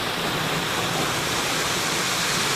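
A waterfall in open countryside at Temalac, Guerrero roars as a dense, even rush of falling water, loud and continuous with no voices.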